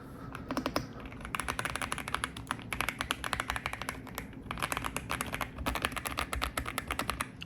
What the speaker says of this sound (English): Wait till you hear these keycaps.